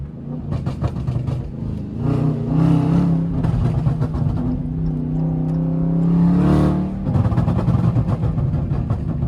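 A car fitted with a loud illegal exhaust revs hard in several long surges, a deep rumbling roar that rises and falls, very loud and close.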